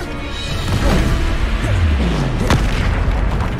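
Descendo slam spell in Hogwarts Legacy, a loud heavy booming crash with sweeping whooshes and rumbling impact amid dense game combat noise, without speech.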